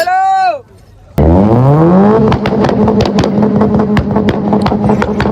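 A tractor at a college bike expo: an engine rumble rises in pitch as it revs up, then settles into a loud, close, steady chugging with rapid regular knocks.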